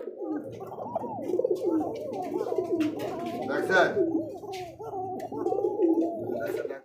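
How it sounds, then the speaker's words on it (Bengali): Pigeons of a Koka breed cooing in low, throaty rolling calls that repeat steadily at close range, with someone talking over them. "কোকা কবুতর"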